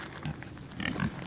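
A pig in a farm pen gives a few short, low grunts close by, brief and unaccompanied by talk.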